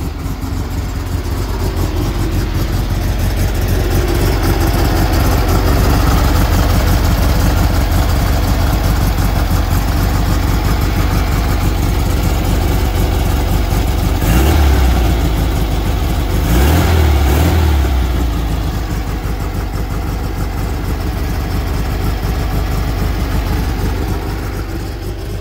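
A 1965 Volkswagen Combi T1 thirteen-window van starts and settles into a steady, loud idle without throttle, the rough air-cooled engine chugging continuously for about twenty-five seconds.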